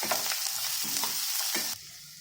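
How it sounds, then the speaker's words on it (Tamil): Chopped capsicum sizzles and fries steadily in a hot pan with idli pieces for chilli idli, with bursts of stirring scrapes, then the sizzle drops quieter near the end. "இப்போ இதில் ஒரு சின்ன கேப்சிகம்மை பொடியாக நறுக்கியிருக்கேன், அதையும் சேர்த்து வதக்கிக்கிறேன்"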